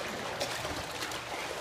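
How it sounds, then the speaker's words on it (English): Dogs wade and splash through water, a steady close sloshing and trickling that fills the moment with no voices. "Making it hard to talk over all the dogs walking in the water."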